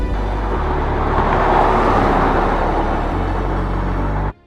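A damaged Aston Martin DB12, back on the road after an accident and running in limp mode, gives a steady close engine and road rumble from inside the car that cuts off abruptly at the end.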